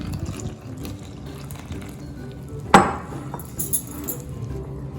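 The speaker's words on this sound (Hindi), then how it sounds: "थोड़ा थोड़ा पानी करके शामिल करें।" Plain water is poured a little at a time into flour in a kitchen for kneading paratha dough, a brief splash and trickle standing out over faint clinks of utensils.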